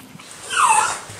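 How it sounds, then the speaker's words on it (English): A dog whimpers and yips in one high, strained burst near the mic, swelling in the middle and fading off, with no talk over it. "this dog keeps attacking me"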